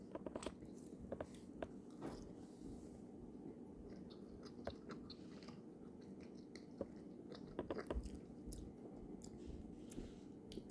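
Soft, close chewing of a gummy candy sushi topped with half a marshmallow, with faint sticky bites and small squelches spread over about ten seconds against a low background hum, with no talking.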